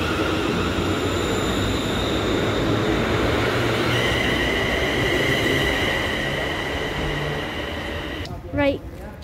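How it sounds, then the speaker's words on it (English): A ScotRail train pulls into Paisley Gilmour Street station with a loud, sustained rumble and rising wheel and motor tones that fill the platform. A brief voice comes at the end. "Right, coming in now, I think that's our train."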